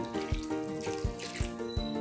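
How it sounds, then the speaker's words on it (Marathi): Water splashes steadily into a pot of taro root for boiling, a continuous pouring rush with soft rhythmic sloshes, fairly close and without talk. "त्यामध्ये पाणी घालून घेऊ आता आपण"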